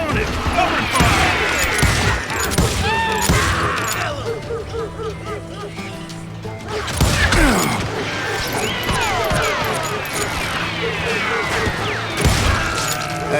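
Gunfire in the western shooter Call of Juarez: Gunslinger: repeated loud shots and impacts layered over music and shouted voices, nearly continuous, with a brief lull midway.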